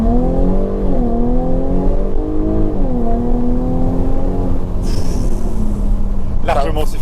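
A Jaguar F-Type with a 340 hp V6 revs and accelerates hard, its engine note climbing and dropping in steady surges from inside the cabin, with a brief tire or wind hiss near the end.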